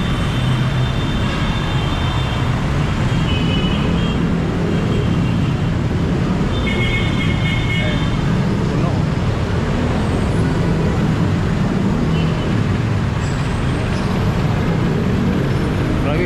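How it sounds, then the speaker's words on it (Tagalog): Road traffic with jeepneys rumbles loudly and continuously, a dense roar of engines close by with occasional higher whines, and voices can be heard faintly in the mix. "Traffic."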